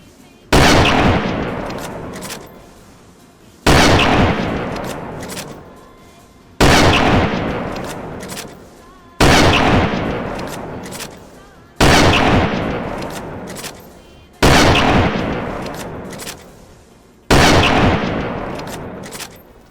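An unsuppressed Cheytac Intervention sniper rifle in the video game DayZ fires seven loud, sharp shots, evenly spaced about two and a half seconds apart, each followed by a long, decaying echo.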